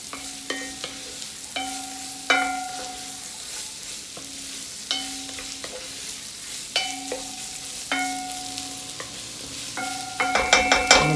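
Apples cook with corned beef in a pan over raised heat. A low, steady sizzle sits beneath repeated ringing clinks of a metal spoon against the pan, which quicken into rapid taps at the close.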